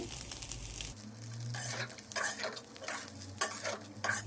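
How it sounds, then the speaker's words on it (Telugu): Cooked rice is stirred and mixed with a spoon in a metal pan for raw mango pulihora, giving intermittent scraping and soft clattering strokes at close range, with a low hum underneath early on. "అన్నాన్ని ఇప్పుడు మంచిగా కలుపుకోవాలి."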